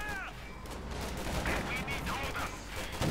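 A StuG assault gun fires on a Flak Panzer in Company of Heroes 2, with gunfire and explosion effects in a busy battle soundscape, mid-level and somewhat muffled under game ambience.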